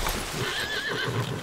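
A loud, close horse neigh in Assassin's Creed Valhalla rises and wavers over a steady background, with no talking.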